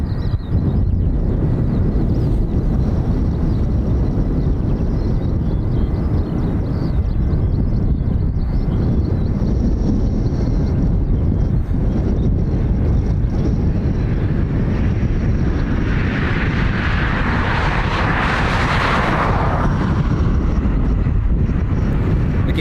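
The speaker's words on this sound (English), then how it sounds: "Lined up now, Ryanair to Gatwick." A Ryanair airliner waits on the runway at Dublin Airport before departing for Gatwick. Its engines give a constant, heavy low rumble mixed with wind buffeting the microphone, and a rushing whine swells briefly near the end.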